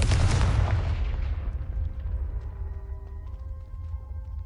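A Confringo fire spell from the Hogwarts Legacy video game bursts with a loud, close boom that rolls into a long, fading rumble, with faint game ambience lingering afterward.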